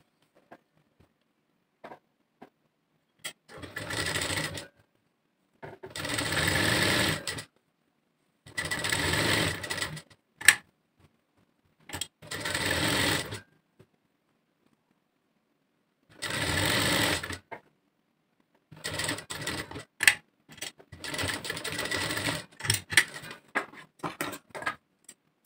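A sewing machine stitches piping onto the back neck of a blouse in several separate bursts of rapid whirring, each lasting a second or two, with quiet pauses between them.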